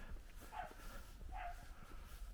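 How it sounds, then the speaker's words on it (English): Small dogs yapping in the distance along a countryside track near Sigüenza, Spain, two brief bursts of high barking over steady outdoor background noise. "I just love the sound of yapping dogs."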